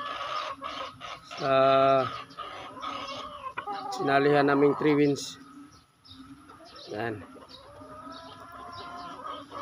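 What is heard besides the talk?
chickens clucking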